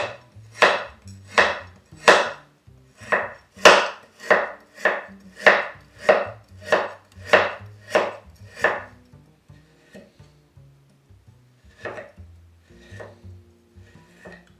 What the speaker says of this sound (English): Oh, this is cutting through like nothing. Let's see how thin of a slice I can get.